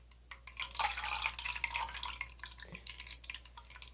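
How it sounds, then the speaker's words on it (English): Colored non-Newtonian fluid, a cornstarch-like mixture, drips slowly with wet splats and soft sticky plops close by over a low steady hum. "it's dripping very, very slowly because of how it acts as a solid"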